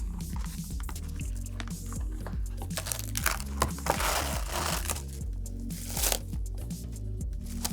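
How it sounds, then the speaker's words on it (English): Plastic wrap is pulled from a roll and crinkled over a bowl in a run of close, soft crackling and rustling bursts, quiet and with no speech. "take some plastic wrap"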